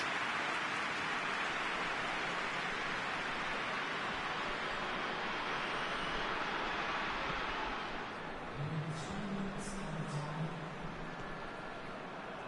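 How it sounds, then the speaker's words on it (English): Rain falls steadily throughout a Spanish La Liga 2005/06 football video game match, a dense, even hiss that stays constant for the whole stretch, with slight shifts near the end. "Rain starting to fall here."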